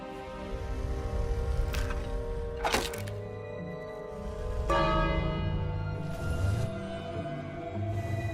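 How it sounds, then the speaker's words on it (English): In the King's Quest game on Xbox 360, a bell rings several times with clear, ringing strikes that linger and decay between hits, over a low rumbling background. "And now I call the bell."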